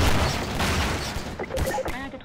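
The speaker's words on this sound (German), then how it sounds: "Wo kommen denn die Schüsse her, ey?" Gunfire in the Half-Life 2 video game: a dense, rumbling volley of shots in the first second and a half, then a few sparser bangs while someone talks in German over it.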